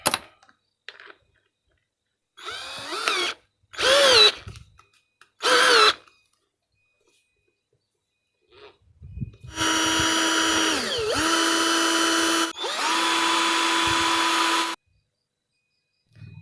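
An APR cordless drill with a 13 mm chuck whirs in several short bursts of a second or so, then runs in longer sustained spells with a brief dip in pitch, close and loud with quiet gaps between runs.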